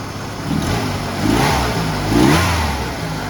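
Close, loud truck engine, nearly out of fuel, idling and revving in a couple of swells, steady rumble throughout with no talking.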